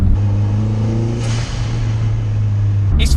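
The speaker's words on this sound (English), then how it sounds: "So you put more brake horsepower through it in a fancy little turbo, and it absolutely sings to you as you boost." Turbocharged Renault Clio 172 tuned to about 240 bhp, engine pulling hard under acceleration with a steady, droning rev note and a rising whoosh, loud and close, ending in a brief burst of higher-pitched noise.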